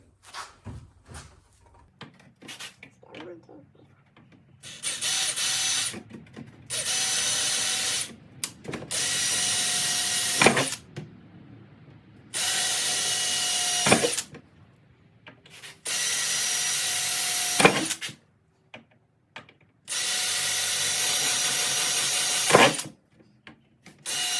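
A power drill whirs in several sustained bursts of a few seconds each, boring holes in a plastic milk crate, separated by pauses and small clicks and knocks of handling; close and fairly loud.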